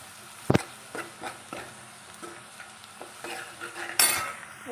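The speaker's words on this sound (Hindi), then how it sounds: "अब इसको मिला लेंगे।" Spoon stirring golden-brown fried onions with turmeric and red chili powder in a pan, making a series of scraping strokes over a soft sizzle, with a sharp clink near the start and a louder scrape toward the end.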